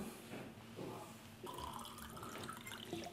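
Water is poured into a glass in a home kitchen during a cooking session, a steady filling splash lasting a few seconds with a brighter, fuller stream in the second half.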